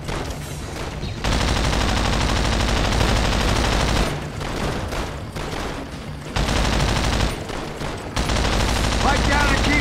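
Sustained heavy gunfire and machine-gun bursts in a World War II battle in Call of Duty: World at War, loud and continuous with brief lulls, with voices shouting over the firing.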